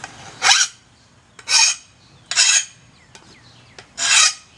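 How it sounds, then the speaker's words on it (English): Hand file rasping paint off the edge of a replacement lawnmower blade: four separate harsh strokes in an even rhythm with short pauses between them, close and fairly loud, and no talking. "So I'm just filing down the paint."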